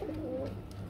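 A male running pigeon coos in a loft, giving a single soft, low, throaty coo that is faint and brief.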